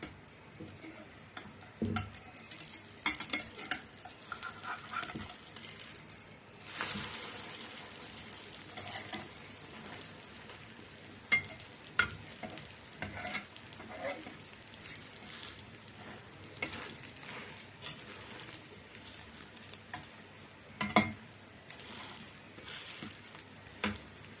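An evening snack fries quietly in a pan with a soft, steady sizzle and crackle, broken by scattered light clicks and scrapes as it is turned over.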